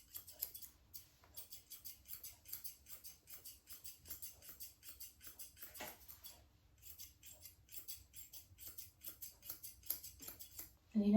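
Grooming scissors trim a cockerpoo's coat, giving quick, rhythmic snipping clicks in close succession with a few short pauses. The cuts are close and crisp against a quiet background.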